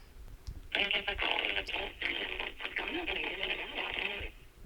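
A telephone call goes out: a steady tone and ringing-like band from the line runs for about four seconds, fairly loud and unbroken, with no one speaking over it.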